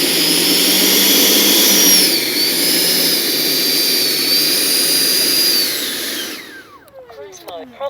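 Freewing 90mm F/A-18C RC jet's electric ducted-fan motors roar in a loud, steady whine with a slowly shifting pitch, then spool down and fade in the final seconds.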